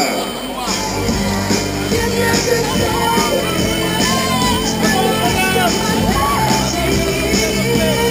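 Spectators at the start of a Corrida running race in Issy-les-Moulineaux, clapping and shouting in a lively crowd, with music and a voice over a loudspeaker mixed in.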